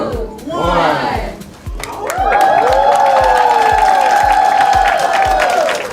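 Crowd applause and cheering greet K-8 STEM students as they walk into Renew Birmingham, with a steady rhythmic beat and sustained music-like tones running loud throughout.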